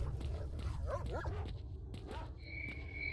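Dogs in S.T.A.L.K.E.R. Shadow of Chernobyl give a few short yips and barks over a dense low rumble, followed by a thin steady high tone near the end.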